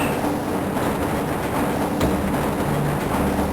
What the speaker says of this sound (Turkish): Bu otomatik tren, Black Mesa araştırma çalışanının güvenliği ve rahatlığı için sağlanmıştır.